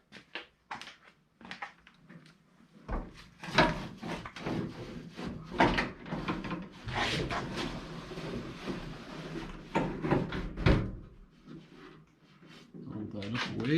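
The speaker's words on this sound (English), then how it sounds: "Open the door." The door of a 1973-1979 Ford Dentside pickup truck opens and shuts with several solid clunks and rattles, close by, amid people talking.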